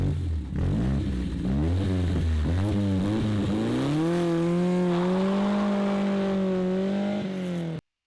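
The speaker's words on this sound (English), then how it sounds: "I want to play a quick clip here in a minute from this awesome engine." A supercar engine revs hard and loud, its pitch climbing and falling in repeated sweeps before settling into a high, sustained howl that cuts off abruptly near the end; no voices.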